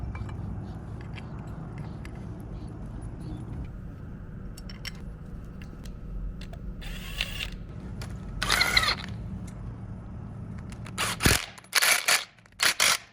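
A ratchet tightens a silicone-coated bolt on a Toyota 22RE engine during an engine replacement, with short bursts of close, rapid clicking after a stretch of quiet workshop background.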